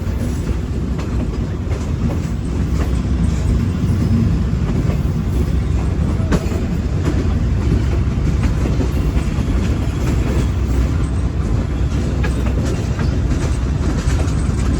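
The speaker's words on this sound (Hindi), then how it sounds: "आप इस अंधेरे में ट्रेन को चलता देख सकते हैं।" A train running at night between Karachi and Nawab Shah, a steady loud rumble of railcars with rhythmic clickety-clack of wheels over the rails, continuous and close throughout.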